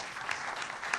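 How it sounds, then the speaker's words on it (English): An audience at an election panel event claps for a guest, a brief, even patter of applause that is fairly faint and steady throughout. "How about a round of applause for Rich Miller?"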